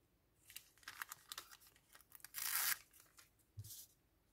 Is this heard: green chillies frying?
no